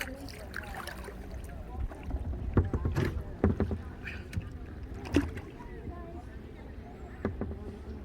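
A kayak is paddled up a channel in Kings Bay, with irregular close paddle dips and splashes, hull knocks and buzzing insects, while a person talks at times.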